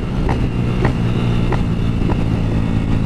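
A Honda CG 190 motorcycle rides along a street, its engine a steady close rumble with faint rhythmic pulses and no speech.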